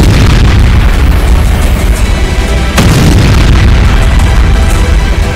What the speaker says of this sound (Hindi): ओडेसा में पुतिन की क्लस्टर वॉरहेड के सीरियल धमाके शुरू हो चुके हैं